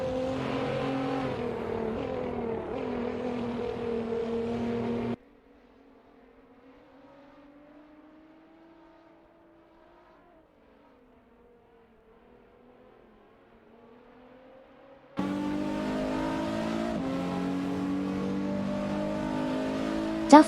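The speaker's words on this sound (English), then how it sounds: "The fight intensifies for P12 between Bobado in an Aston Martin DB11 V12" Racing cars in a video game, among them Aston Martin DB11 V12s and a TVR Tuscan S, roar and rev loudly, then fall away to a faint distant whine for several seconds before the full engine noise returns.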